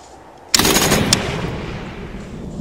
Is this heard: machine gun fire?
yes